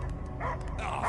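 In a Guardians of the Galaxy video game scene, a dog barks once or twice in a short, close yip, heard over a low game-sound backdrop.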